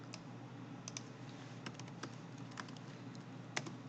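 Light, scattered keystrokes on a computer keyboard as answers are entered into a test form, soft and close against a steady low hum.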